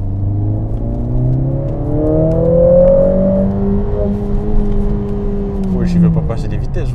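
A 2020 Mercedes-AMG A45 S engine in sport mode climbs in revs with a rising, droning tone, easing off and building again, heard from inside the car while someone talks over it.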